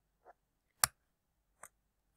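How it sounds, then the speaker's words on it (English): A computer mouse button clicks in a quiet room while a link is being added: one soft tap, then a sharper main click, then a lighter third click, each short and close, with silence between. "So I'm going to click on it."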